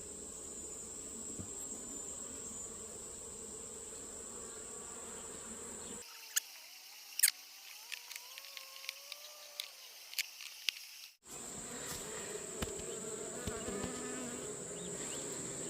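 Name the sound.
honeybees buzzing at an opened hive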